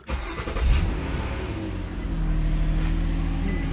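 A 2010 Nissan Maxima with a newly replaced alternator cranks and catches, rising into a close, loud idle that settles into a steady rumble.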